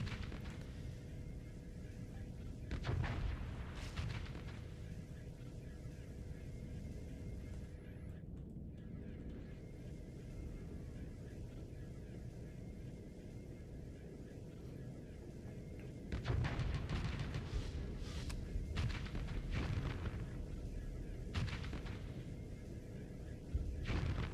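A spaceship weapon in a space video game fires at enemies, giving faint, dull booming shots at irregular intervals over a low droning background, with a louder burst toward the end.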